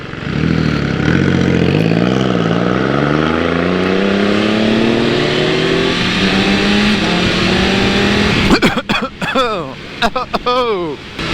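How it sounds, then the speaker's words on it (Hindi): Off-road vehicles including a Suzuki Jimny and a Force Gurkha pass in a convoy on a road, engines loud and close with rising and falling revs as each goes by, ending in a flurry of shorter passes. "ऑफ रोडर गाड़ियों का ये क्या काफिला निकल रहा है यहाँ से।"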